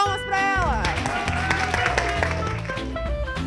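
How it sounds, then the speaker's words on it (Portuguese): A group of children at a school clap for a visiting clown workshop leader, a dense burst of applause with excited voices that swells right after a brief spoken line and holds steady. "Então uma salva de palmas pra ela!"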